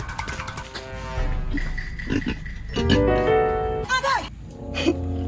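A pig oinking and squealing in a rural Filipino setting, a run of grunts and squeals over a continuous noisy background with other voices and sounds mixed in.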